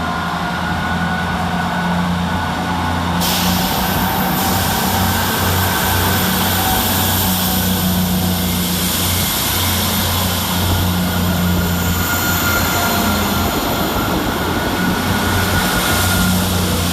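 South Western Railway diesel units 159022 and 158888 pulling out of Basingstoke station in snow, a loud, steady engine roar and rumble building and holding close by, with no talk.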